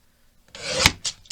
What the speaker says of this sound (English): I'll use my mini guillotine and trim that top off, the branding strip.